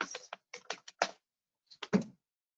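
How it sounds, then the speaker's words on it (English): Keys tapped on a computer keyboard in short, irregular clusters of close clicks with brief pauses between bursts, then a final flurry after a gap. Nothing else is heard. "I'm typing in curry recipes."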